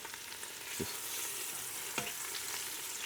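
Steady sizzling of pork ribs in a hot pan, with a couple of soft clinks and scrapes, and no voices.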